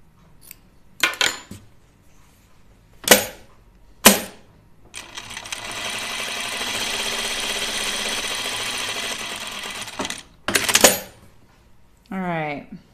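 A sewing machine stitches fabric in a steady, even whir lasting several seconds, framed by sharp clicks and clatters of handling before and after; a voice briefly appears at the end.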